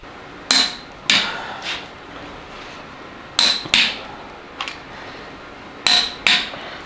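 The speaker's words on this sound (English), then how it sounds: "So let's go ahead and get this thing torqued down." A click-type torque wrench tightens 2JZ engine bolts to 105 foot-pounds on a Supra build, giving sharp, loud metallic clicks that mostly come in close pairs and are separated by short silent gaps.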